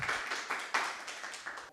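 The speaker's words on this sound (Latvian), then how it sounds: "Tad vēlreiz Sabīna, Normunds, Lauris, aplausi." A brief burst of audience clapping, several hands patting together in an uneven patter that fades out within two seconds.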